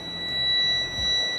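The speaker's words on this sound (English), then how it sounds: "Let's listen to the beep on this one." A steady, high-pitched electronic beep from a Gourmia air fryer rings out clearly and holds for over a second.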